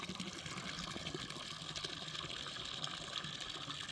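A solar-powered pump feeds a small waterfall into a duck pond outdoors, water splashing and gushing in a steady, fairly faint continuous stream.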